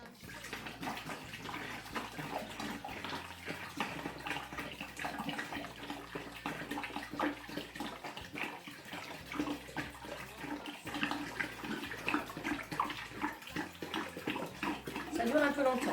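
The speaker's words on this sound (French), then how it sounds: "Donc je vais verser mes 5 litres d'eau." Five litres of water pour steadily into a container while homemade naturally fermented lemonade is made. The splashing, running stream is continuous and moderately loud for the whole stretch, with no pauses.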